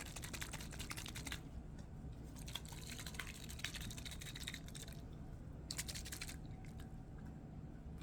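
Water is used as a close, very quiet ASMR trigger, with soft trickling and dripping textures that come in clustered bursts over a steady low background hum.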